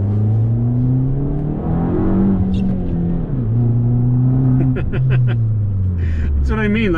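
A Fiat 500 Abarth's small four-cylinder engine accelerates with a steady, loud exhaust drone whose pitch climbs and drops through gear changes, heard continuously under talk.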